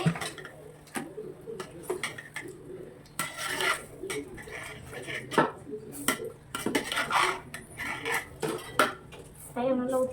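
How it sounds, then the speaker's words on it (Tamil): A utensil scrapes and clinks against a metal pot of biryani in irregular strokes, with birds cooing faintly in the background. "ஒரு கிண்டு கிண்டிக்கலாம்."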